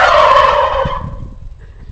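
Turkey gobbling loudly and close by, one rapid warbling burst that fades after about a second, followed by quieter low rustling.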